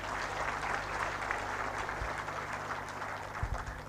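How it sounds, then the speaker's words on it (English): An audience at an international conference applauds the entertainers: a continuous, dense round of clapping, loud and fairly close, with a low steady hum underneath. "Can we give our team, the entertainers, another round of applause?"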